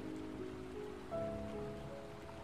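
Steady rain falls while two people walk together through it at night, a soft continuous patter with faint tonal hum from background music running underneath.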